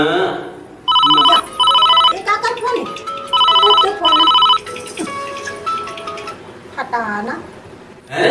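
A mobile phone ringtone rings in loud, repeated bursts of bright tones, interrupted by people talking over it in Chhattisgarhi in a comic village scene.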